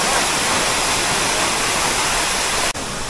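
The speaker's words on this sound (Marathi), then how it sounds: "अशा प्रकारे आपण हा सुंदर असा वॉटरफॉल एक्सप्लोअर केला आहे" A waterfall at Bhandardara roars as a dense, continuous wash of falling water, loud and close, with a brief dip near the end and no voices.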